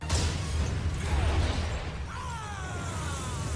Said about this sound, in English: There's an explosion in The Grinch.